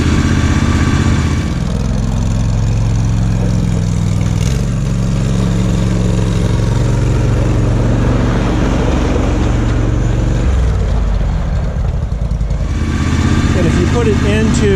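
An Argo ATV engine runs loud and close while the vehicle drives forward and turns, a steady droning rumble with slight shifts in pitch, under a voice talking.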